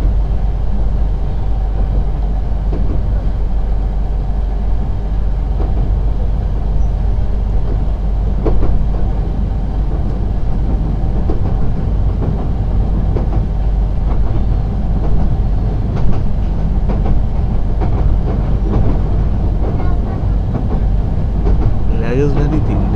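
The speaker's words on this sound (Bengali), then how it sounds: "এটা লোকাল ট্রেন" A local train in Bangladesh, near Sitakunda, makes a continuous loud rumbling and rattling with steady clatter. The sound stays close and unbroken for the whole stretch.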